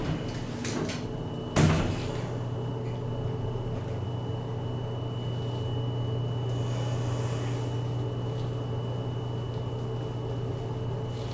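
A Westinghouse traction elevator door at a Macy's store closes with a sharp thud and clatter early on, then a steady low hum of the running car fills the rest.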